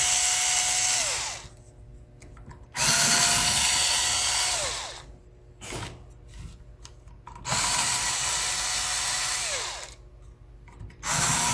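Power screwdriver whirring in repeated bursts as screws come out of a hard drive caddy in an HP 15 laptop, several sustained high-pitched runs separated by short pauses, close and loud.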